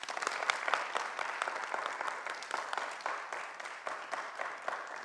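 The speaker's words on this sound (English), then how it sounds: "Will we applaud her one more time?" Audience applause for a guest speaker at an evening discussion event, a steady wash of many hands clapping throughout at moderate level, with no clear talk.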